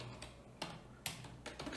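Several key taps on a computer keyboard in a graphic design setting, faint and spaced out, with about four distinct clicks against a low steady hum.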